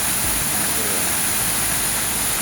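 Water pours down at the Ghonsari falls in a constant, heavy rush, loud and near, with no pauses or distinct events.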